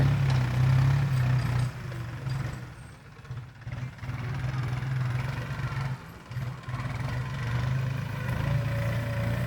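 A New Holland 3.50 tractor plows a field to prepare soil for planting corn, its engine a steady low drone that dips briefly and then holds, heard close with no talk over it.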